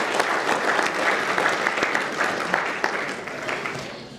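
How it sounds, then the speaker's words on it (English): An audience applauds at a talk held at Trinity College Dublin, a dense wash of clapping that stays loud and steady before thinning slightly toward the end. "So a round of applause for all of you guys who are here today."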